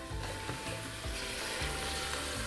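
Chicken wing drumettes sizzle and fry in a hot, thick-walled pan, a steady close crackle with soft low bubbling throughout.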